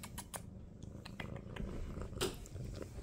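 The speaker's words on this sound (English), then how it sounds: "And you got a great purr." A pet cat purrs softly and steadily, a low continuous rumble with faint clicks and rustles, close by and quiet, with no talking.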